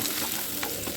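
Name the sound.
onions frying in oil and butter, being stirred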